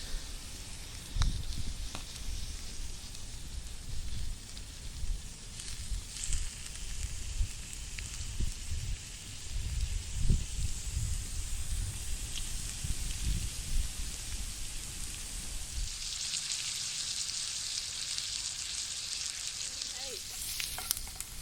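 Pork belly slices frying over a campfire outdoors, with a steady close crackling sizzle throughout and brief sharp pops, growing brighter and hissier toward the end.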